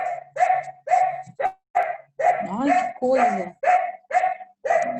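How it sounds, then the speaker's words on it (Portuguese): A pet dog barks repeatedly in a rapid, regular series of sharp, close barks, loud and evenly spaced, with a person speaking briefly amid them. "Estou tentando desligar minha cadela."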